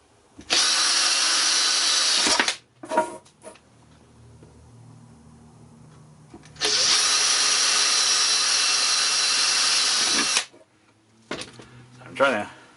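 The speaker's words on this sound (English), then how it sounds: "drill a hole in it." A power drill whines loudly in two long bursts of a few seconds each while drilling a hole during controller kit assembly, with short pauses, handling noises and a voice speaking in between.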